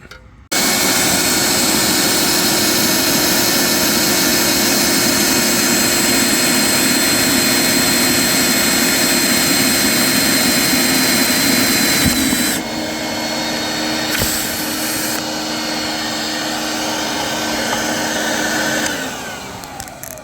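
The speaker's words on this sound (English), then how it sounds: "We use the vacuum while we're drilling to keep all these shavings up." A loud, steady vacuum whine runs throughout with a drill-like drone as a vacuum collects shavings while drilling a mounting plate on a C&C 39 sailboat, shifting pitch midway and dropping slightly near the end.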